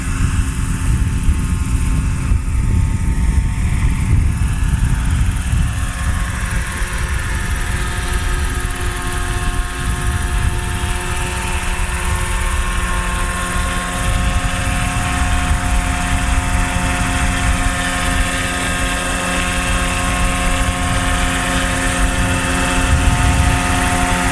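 A Roban MD-500E 800-size RC helicopter flying in wind, its rotors and turbine giving a loud, continuous whine and a throbbing blade chop throughout, with wind buffeting low underneath and no talk.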